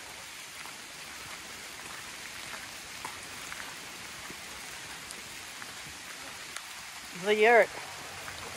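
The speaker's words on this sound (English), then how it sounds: "Dang rain." Steady rain patters on an outdoor path on the way to a yurt in the White Mountains, a constant soft hiss throughout, with a person briefly speaking near the end.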